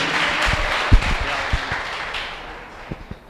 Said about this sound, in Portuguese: E uma salva de palmas bem forte para Jesus.